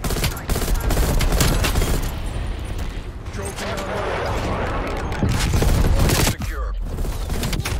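Gunfire in a shooter video game, dense bursts of shots and booms rolling almost without pause and loud throughout, with a player talking over parts of it.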